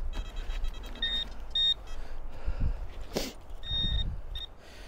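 A metal detector held over a deep signal gives a few short, thin electronic beeps in pairs, fairly faint over rustling outdoor background noise.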